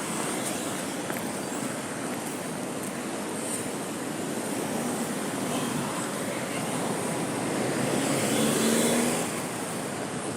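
City traffic flows past in a broad, steady wash of car noise, with one vehicle swelling louder as it passes near the end.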